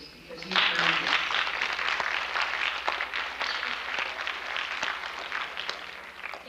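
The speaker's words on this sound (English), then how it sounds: "So applaud yourselves, please, because you've earned it." An audience at a 1992 high school National Honor Society ceremony breaks into sustained applause, dense and steady clapping that fills the room for several seconds.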